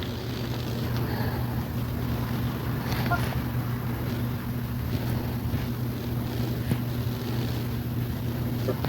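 A motorcycle engine in the mobile game PUBG Mobile drones on in a continuous low hum, blended with a windy rushing noise that holds steady for the whole stretch.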